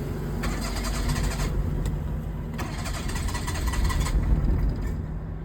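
A Daihatsu Cuore with a spark-plug misfire fault cranks in bursts and settles into a rough, steady idle, the engine loud and close throughout with short starter whirs cutting in twice.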